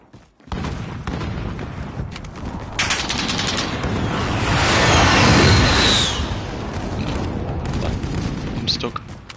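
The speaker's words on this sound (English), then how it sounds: "Be advised, friendly precision airstrike inbound." Loud gunfire and heavy explosions from a precision airstrike in the Modern Warfare video game, a sustained roar of blasts and rattling fire swelling mid-clip, with in-game radio voices over it.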